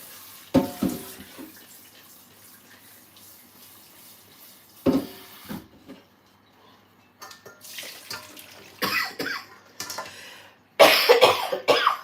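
A few short, sharp sneezes ring out among running water and small kitchen clatters during cooking, the loudest near the end.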